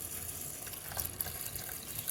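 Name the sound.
water being poured into a GreenPan rice cooker pot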